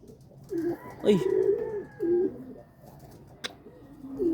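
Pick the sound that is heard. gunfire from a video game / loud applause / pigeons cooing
pigeons cooing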